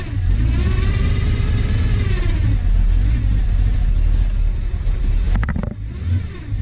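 Cold-started cammed 350 V8 car engine revving loudly and continuously, its lumpy low rumble rising and falling, with a brief sharper burst of throttle near the end.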